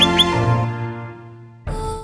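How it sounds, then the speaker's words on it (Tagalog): Close, loud calls of the critically endangered Gigantes limestone frog: tonal chirping notes that sustain and fade, followed by a sudden new call starting near the end. "huni ng critically endangered na gigantes limestone frog"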